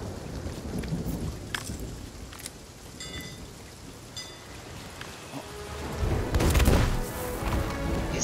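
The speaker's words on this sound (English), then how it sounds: "Try and beat this storm." A thunderstorm at sea in the pirate game Sea of Thieves: steady heavy rain with several sharp thunder cracks, swelling into a louder rumbling roll near the end, with no voices.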